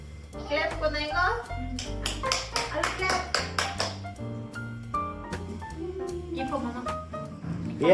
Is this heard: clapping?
yes